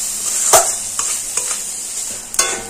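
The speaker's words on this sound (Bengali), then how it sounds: "এবার এগুলো ভালোভাবে কষিয়ে নেব" Spice paste with Kashmiri chilli powder and salt stir-fried in sizzling oil for hilsa pulao, a spatula scraping the pan in several sharp strokes over a constant bright hiss.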